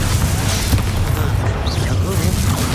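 A Bombarda spell blast in the Hogwarts Legacy video game, a dull booming burst set within continuous battle noise and low rumble, with voices talking over it.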